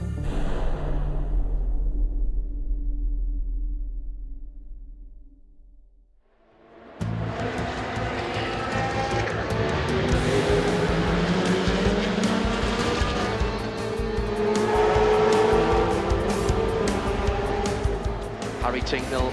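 European Le Mans Series race cars at Imola, engines roaring loudly as the field passes close by and accelerates away, with an excited commentator talking over the continuous high revs.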